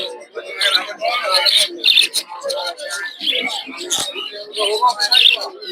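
Budgerigars for sale at a busy bird and pigeon market chirp and warble in a dense, constant twittering, with cooing pigeons mixed in and people talking nearby.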